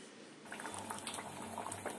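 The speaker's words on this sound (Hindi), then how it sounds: "थोड़ा पानी डालकर ये बॉयल आ चुका है" Chicken gravy with cashew paste and added water bubbles in a pot, a close, soft, continuous simmering burble with small pops, starting abruptly after a brief silence.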